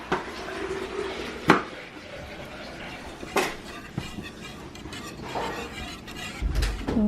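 A utensil stirs breakfast in a pot in a home kitchen, giving scattered sharp metallic clinks and scrapes against a quiet background with a few louder knocks.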